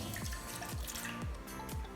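Milk and water mixture poured steadily into a bowl, a continuous liquid splash with repeated gurgling drips, close and alone with no talk.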